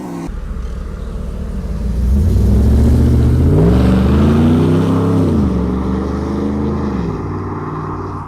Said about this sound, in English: You hear it, and it just, oh, it's such a sick exhaust.